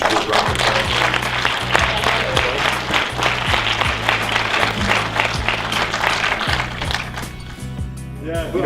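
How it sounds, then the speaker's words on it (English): An audience at a film premiere claps steadily and continuously, a dense wash of many hands that thins out slightly toward the end, with faint voices underneath. "you should give a round of applause"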